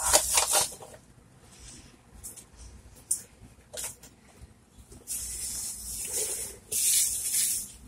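A spray bottle spritzes a bath bomb mixture of citric acid and powders in short hissing bursts, several quick pumps spread irregularly with quieter rustling and mixing sounds between them.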